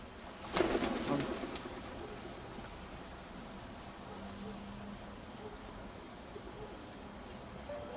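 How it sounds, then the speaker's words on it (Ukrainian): Pigeons cooing in a backyard near woods beside a dormitory, soft low coos heard faintly at a distance after a brief rustle, with quiet ambient hum and a distant mechanical drone. "А це голубі."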